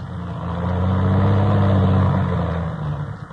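A fighter plane engine sound effect swells into a steady, loud droning roar, holds, then eases off slightly at the end.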